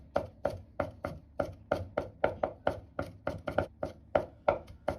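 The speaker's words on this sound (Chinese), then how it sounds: "大蒜和生薑適量，先拍破，然後剁碎就可以，不用剁得太細。" A knife chops crushed garlic and ginger on a board in a kitchen: about twenty sharp, evenly paced thwacks, close and loud, with no talk.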